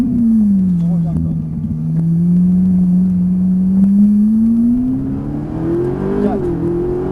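A Ferrari 458 Italia pulls hard around the Dreux circuit, its engine note a loud, steady drone that dips then climbs gradually as it gathers speed, with an instructor talking over it.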